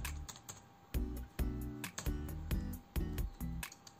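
Fingers typing HTML code on a computer keyboard, a quick, uneven run of close, crisp key clicks and heavier thumps, with no voice.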